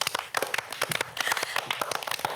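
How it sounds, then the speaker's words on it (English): A classroom of children claps in a lesson on fractions, a brisk run of sharp, uneven hand claps close by and moderately loud with no talking. "Clap for me, please."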